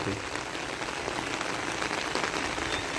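Steady rain falling at night during a frog-catching outing, a dense, even hiss that stays close and constant from start to finish with no voices.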